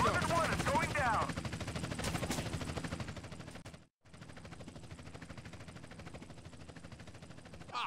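In the GTA video game, rapid gunfire and a police helicopter's rotor clatter fill the scene as the helicopter goes down, with a voice talking over the din. The noise drops out for a moment and then resumes.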